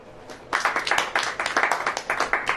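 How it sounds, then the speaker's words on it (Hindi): Church congregation clapping in rhythm during a Hindi sermon, a sharp burst of steady, fairly loud claps that starts abruptly after a quiet moment and continues throughout. "ताली बजाइए।"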